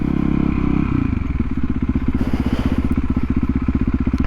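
Motorcycle ridden hard off-road, the engine revving and pulsing rapidly and loud and close, with clattering and thumping from the terrain as the bike accelerates.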